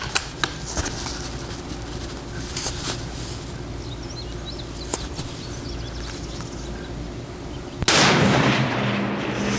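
Rifle fire on an outdoor shooting range, a few sharp distant cracks spaced apart over a steady background hum, with one louder blast near the end followed by a sustained noisy wash.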